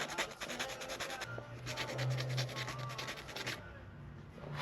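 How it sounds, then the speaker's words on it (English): A handmade fishing lure being sanded by hand with 220 grit sandpaper, close rhythmic rubbing strokes in steady back-and-forth bursts, pausing briefly partway through before fading near the end. "Sand it down with 220 grit again."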